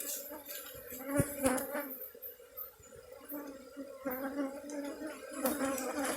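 Scutellata honey bees crawl over hive frames during a transfer into a full hive, giving a steady close buzzing hum with some handling noise and faint background voices.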